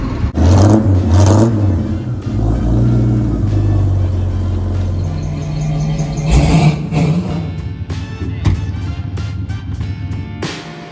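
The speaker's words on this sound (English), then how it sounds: "It's just a beautiful day out to be driving." A car engine with a developing fault, later heard misfiring, hums and rumbles while driving, with loud revving swells and whirring under a continuous road roar, no speech.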